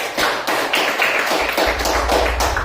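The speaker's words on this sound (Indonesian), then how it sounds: "Tepuk tangan untuk kelompok 3" A classroom of pupils applauds a group that has just presented, a dense burst of hand claps continuing steadily for a few seconds with no talking.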